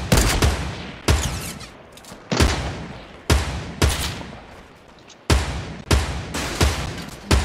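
Fortnite Battle Royale gunfire rings out in sharp bursts, repeated loud shots at an irregular rhythm with short decaying tails, close and dominant with no voices.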